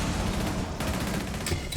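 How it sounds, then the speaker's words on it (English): Dense gunfire from a competitive tactical shooter match, with a G360 rifle fitted with an ACOG sight among the weapons, crackles as continuous rapid bursts, loud and close, with sharper cracks near the end. "Gunfire goes down."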